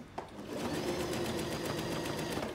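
A sewing machine stitches a reusable sanitary pad, a steady, close mechanical whirr with rapid needle rhythm that starts after a short click and runs continuously.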